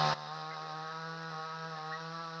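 A chainsaw cuts trees somewhere nearby, giving a steady, unbroken droning hum that runs evenly in the background for the whole stretch.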